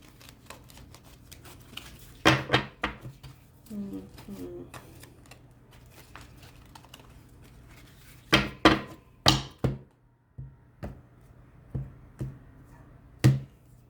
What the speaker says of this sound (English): we're just going to shuffle them a little bit more